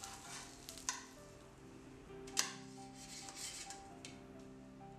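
Korean chive pancake (buchujeon) frying in a pan over medium heat, giving a steady soft sizzle throughout with a few brief clicks and scrapes, no talking.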